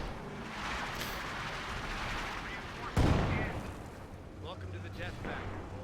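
Infantry support guns firing in Company of Heroes 2, a dense battle din of continuous gunfire with one loud sharp blast midway, followed by lighter crackling shots and rumble.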